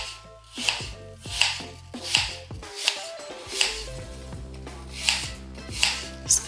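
A knife cuts an apple into thin slices on a board, giving crisp, evenly spaced chops about every half second, close and clear with no talking.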